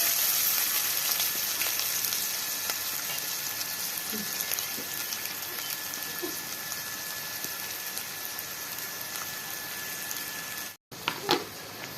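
Ginger paste and onions sizzle gently in hot oil over low heat, a steady close crackle with occasional small pops that runs evenly throughout, with a short break near the end.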